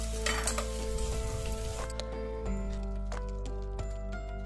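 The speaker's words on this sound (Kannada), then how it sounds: "ಆಮೇಲೆ ನಾನು ಬೆಳ್ಳುಳ್ಳಿ ಸೇರಿಸ್ತೀನಿ ಇದಕ್ಕೆ, ಚೆನ್ನಾಗಿ ಒಂದ್ಸಲ ಫ್ರೈ ಮಾಡ್ತೀನಿ." Garlic frying and being stirred in a hot pan while making Mangalorean chicken sukka, a steady close sizzle with scraping stir strokes and light clinks throughout.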